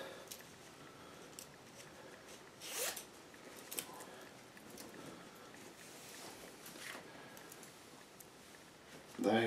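A large zipper on an oversized top worn over clothes, with a couple of quick rasping pulls and some faint fabric rustling at low volume, and a sharper zip at the very end.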